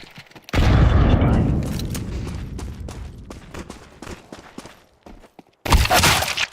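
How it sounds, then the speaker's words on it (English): A grenade detonates in a first-person shooter game with a loud, close boom that rumbles and fades over several seconds, followed by scattered game noises and another sharp burst of gunfire near the end. "Grenade out"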